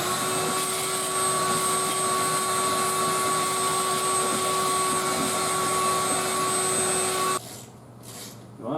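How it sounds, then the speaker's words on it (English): A shop vac fitted with a smaller taped-on hose sucks up broken window glass from a smashed Toyota Corolla door, a loud, steady whine with a high tonal hum that cuts off abruptly near the end, no talking. "We're going to take this smaller vacuum hose, tape it to my shop vac hose, and hopefully this will be able to fit in there and pick everything up."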